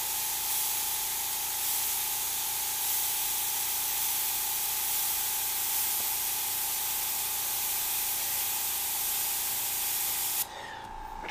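A standard airbrush sprays paint in one continuous close hiss lasting about ten seconds, then cuts off abruptly.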